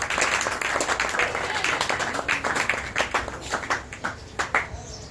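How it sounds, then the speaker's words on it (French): A church congregation applauds for a brother, dense close clapping that thins toward the end, with voices mixed in. "Acclamons pour le frère."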